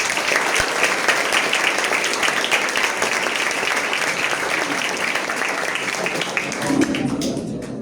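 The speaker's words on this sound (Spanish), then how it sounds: "Aplausos para él" A school audience of students gives a sustained, dense round of applause for their director, steady and loud for several seconds before tapering slightly at the end.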